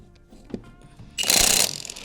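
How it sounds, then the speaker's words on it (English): A sharp mechanical burst of rapid ratcheting whirs in loudly after a few quiet clicks as a ratchet removes wheel lug nuts on a Jeep XJ, running about half a second before tapering off. "All right, first taking the wheels off."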